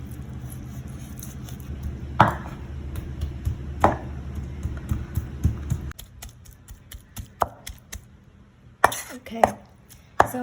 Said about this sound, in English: Let's move on to mincing our meat